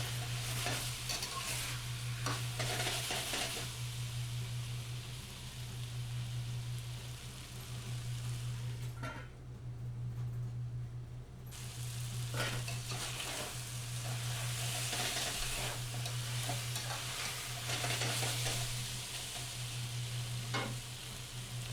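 Beef frying in a pan while being stirred, a loud continuous sizzle with repeated scraping strokes close up, a brief lull partway, no voices.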